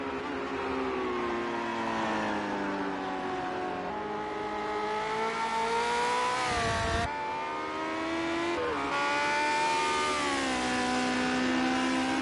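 Lotus 78 race cars at Brands Hatch, a loud engine howl rising and falling through gear changes, with a sharp pass-by burst near the middle before the revving climbs again.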